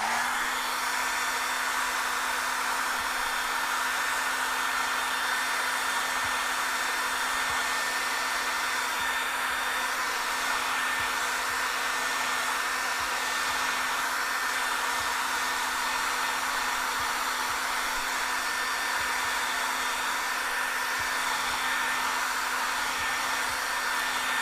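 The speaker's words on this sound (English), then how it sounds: "I'm going to blow dry that real quick" A hair dryer blows continuously to dry acrylic paint on a canvas in a painting session, a steady close whoosh with a fixed low motor hum throughout and no speech.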